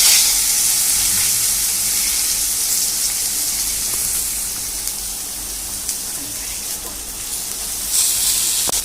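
Soaked puffed rice tipped into a hot pan sets off a loud, close hiss and sizzle that slowly eases, then flares again briefly near the end.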